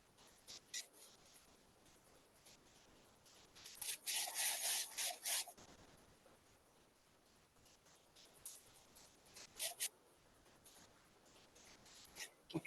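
Hands rubbing cracked heels during a yoga session, a faint, close scratchy friction with a louder burst of brisk rubbing in the middle and scattered short strokes elsewhere.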